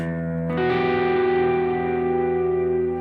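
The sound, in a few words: electric guitar minor ninth chord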